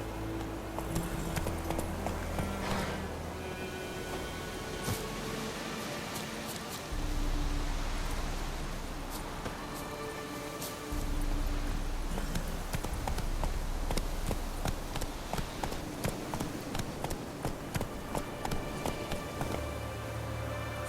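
Horse hooves pounding in a fast, rhythmic clip-clop gallop in the video game The Witcher 3, close and continuous, with brief shifts in surface and pace.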